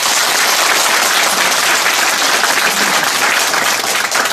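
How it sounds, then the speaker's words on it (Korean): Dense, loud applause from the crowd at an election campaign office opening, sustained clapping throughout with no speech over it. "여러분 큰 박수 한번 보내주세요."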